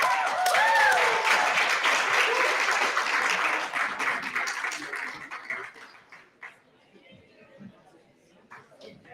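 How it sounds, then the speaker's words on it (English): Audience applause at a graduation ceremony, loud and sustained for about four seconds, with voices chattering over it, then tapering to scattered claps and murmuring. "Big applause for Chef Martino again."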